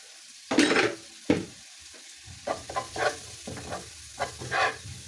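Onions, butter and flour are stirred in a hot pan: uneven scraping and shuffling strokes with soft sizzling underneath, a sharp clatter near the start, then a run of rhythmic stirring pushes close by.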